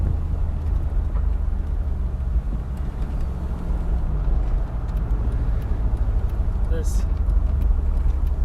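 A Mercedes-Benz G55 AMG engine roars steadily and loudly while accelerating through the gears, with strong low rumble and road noise, while someone talks over it.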